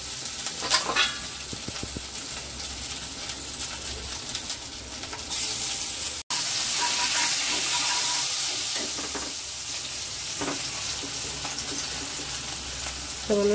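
Cumin, chili, bay leaf, asafoetida and cashew paste frying in a pan for chana masala, giving a steady close sizzle and hiss with occasional stirring scrapes.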